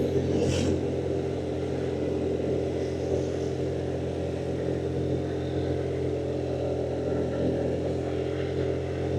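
A Honda Vario 125 scooter engine labouring up a steep hill on a long-distance touring route, a loud, steady drone with constant pitch and wind noise, recorded close to the rider.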